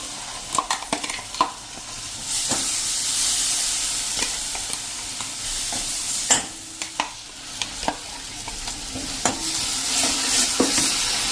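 A tomato, garlic and cashew paste stir-fried on a slow flame, with a soft continuous sizzle broken by sharp clicks and scrapes of a spoon against the pan; nobody speaks.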